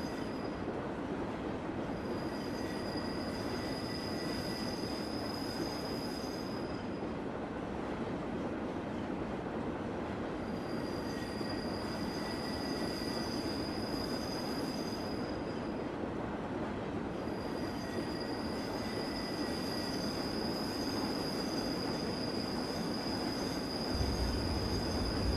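A passenger train runs on the Albula Line in Train Simulator 2016, a continuous rumbling roll with steady high wheel squeal tones that fade and return, constant and moderately loud with no talking.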